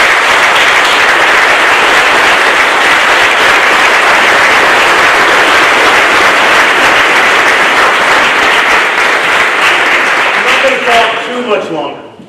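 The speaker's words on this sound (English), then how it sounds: "Please, a round of applause for Scott." Sustained round of applause from a ceremony audience at a Navy master chiefs' change-of-office event on a Marine base, dense and loud throughout before tapering off at the end.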